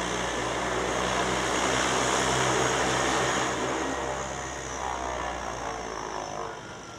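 A De Havilland Otter seaplane takes off from the water at Vancouver Harbour, its propeller engine roaring loud and steady at full power, then easing slightly as it pulls away.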